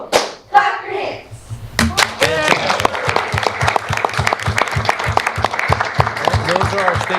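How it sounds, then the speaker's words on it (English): Students and attendees at a town council meeting clap in a fast, rhythmic beat while cheering for state champion eagles, with a few shouted voices at the start before the steady, close clapping takes over. "Clap your hands."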